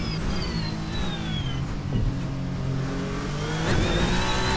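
Lewis Hamilton's F1 car accelerating hard toward 250 km/h, engine note climbing steadily and loud, with rising harmonics throughout and no voices.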